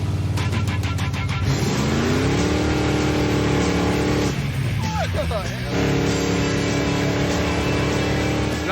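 Engine of a custom car built for burnouts and donuts roars and revs during a ride, with rising pitch sweeps as it accelerates, loud and continuous under talk.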